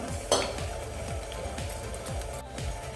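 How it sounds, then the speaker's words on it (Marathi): A metal lid lifts off a steaming pot of spinach rolls with one bright clink near the start, then a steady hiss and faint clatter of cookware continue. "आता आपण झाकण काढून बघूयात आपले पालकचे रोल शिजले आहेत का"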